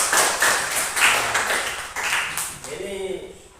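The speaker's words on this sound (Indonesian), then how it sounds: "tepuk tangan dulu." A group of children claps hands together in a few quick bursts of scattered claps, and then a voice starts talking over the end.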